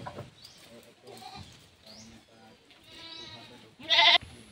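Goats bleat beside a newly built goat pen, several wavering calls spread across the moment with one loud, close cry near the end, while people talk in the background.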